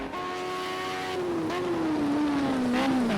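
Group A race car engines at Fuji in the video game Project Cars 2, a loud, close, sustained engine drone that climbs steadily in pitch as it revs, with brief dips at gear shifts and no voices.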